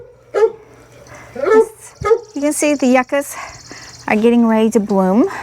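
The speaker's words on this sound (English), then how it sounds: "If you hear the dog barking in the background," A dog barks and yips a few times in the background during a live outdoor garden walk, sharp bursts scattered between steady talking nearby.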